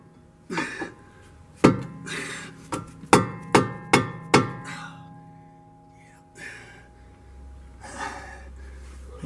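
Hammer blows on a steel chisel driven against brake parts during brake repair: an irregular run of sharp, loud metallic strikes, several in quick succession, with heavy breathing and grunts between them.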